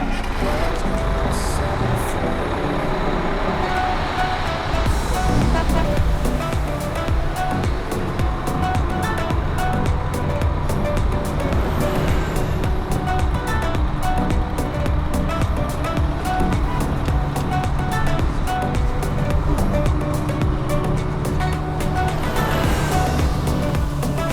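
A bus on a long road trip toward Albania rumbles steadily, with constant engine drone and road noise, and faint voices inside during the ride.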